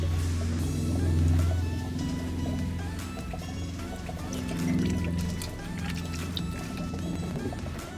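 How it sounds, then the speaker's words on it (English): Old, black engine oil drains from an Audi S4 during a home service, a steady trickling pour running continuously throughout at close range over low workshop hum. "whilst the engine oil is still draining"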